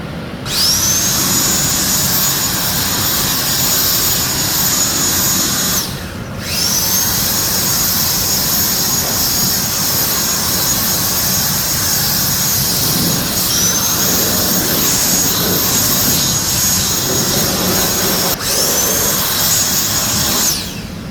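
JUFINX battery-powered electric leaf blower with a 64mm motor running at full power, a loud, close, high-pitched whooshing whine sustained in long bursts with brief cutoffs and spin-ups between.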